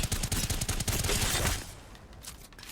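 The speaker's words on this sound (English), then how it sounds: "So we'll just show you the Havoc here with the turbocharger on it." Havoc rifle fitted with a turbocharger fires in Apex Legends: a rapid burst of close, loud automatic shots for about a second and a half, then a fading echo tail.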